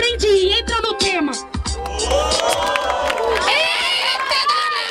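Crowd at a Brazilian freestyle rap battle in Barueri, São Paulo, shouting and cheering loudly and continuously, a dense roar of many voices close by.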